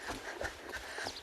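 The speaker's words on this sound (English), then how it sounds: "As I'm riding this horse," A young horse, ridden by a rider, puts down hooves in an even clip-clop of about four close, moderately loud beats over a soft background hiss.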